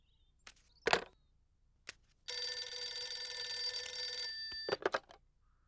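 A cartoon telephone rings once in a long, steady electronic trill lasting about two and a half seconds. A few soft thumps and brief sounds come just before and after it.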